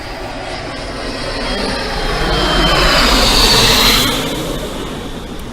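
An airplane flies directly overhead above a home garden, its roaring engine swelling steadily to a loud peak and then easing slightly as it passes, with no talking.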